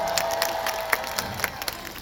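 Scattered audience clapping and light crowd noise at an outdoor music festival stage, thin and fairly distant, heard briefly.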